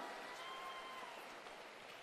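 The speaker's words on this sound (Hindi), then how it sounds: "आगे आओ भाई सुनील मेंढे जी के लिए जोरदार ताली बजाइए जरा." Crowd clapping at an outdoor political rally in Bhandara-Gondia, a dense, even wash of applause filling the whole stretch at a faint, distant level.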